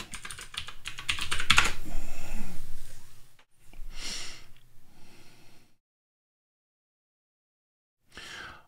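Computer keyboard clatters with a burst of rapid keystrokes as a terminal command is typed, followed by a few softer clicks and a brief final press after a pause; no voices.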